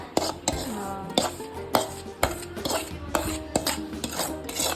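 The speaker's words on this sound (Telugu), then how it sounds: "మిక్స్ చేస్తాను." A spoon stirs soaked poha into a curd batter for idli in a bowl, giving close, rhythmic scraping clinks against the vessel, with repeated sharp strokes roughly every half second and no talk.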